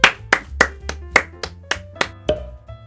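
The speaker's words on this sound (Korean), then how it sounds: "다시 박수." Nine or so sharp hand claps come one by one in a fairly even rhythm, close and loud, each ringing briefly in a small room with no voices.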